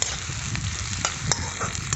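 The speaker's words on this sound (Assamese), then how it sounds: "তাৰপিছত পিঁয়াজখিনি দি দিলোঁ পিঁয়াজখিনি অলপ কালাৰ অহালৈকে ভাজি থাকিম" Steady sizzling of onions frying in hot oil, with a few soft stirring scrapes now and then, close by and moderately loud.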